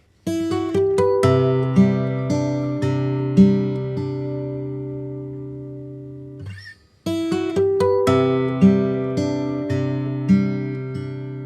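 Plucked guitar notes picked one at a time in a repeating pattern, played twice with a brief pause between, close and clear with no talking.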